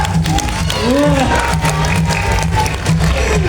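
An audience claps and cheers for Faya, a trained animal that has just fetched a thrown ball during a show, with excited shouts and voices mixed into the crowd noise.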